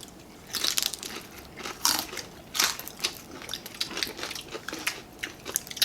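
Crisp, crackling bites and chewing on deep-fried crispy pork head, close and clear, with several sharp crunch bursts followed by steady wet mastication and no talk.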